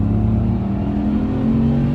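A BMW 850CSi's engine pulls hard under acceleration, a loud, smooth steady drone with a rising tone heard from inside the car, no voices.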